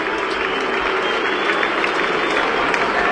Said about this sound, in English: there's the mixed reaction from the predominantly Essendon crowd in the house here tonight at Docklands